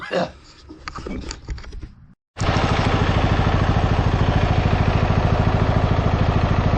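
Bolens lawn tractor engine running after a brief silence, a loud, close, steady small-engine drone with fast even chugging pulses; clattering handling noises come before it starts.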